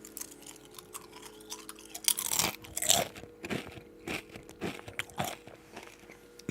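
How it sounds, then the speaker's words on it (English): Cornflakes crunch loudly in a nearby mouth, bursts of crisp chewing repeating irregularly over a faint steady hum, with no talk. "You ever just have cornflakes and just go crunchy?"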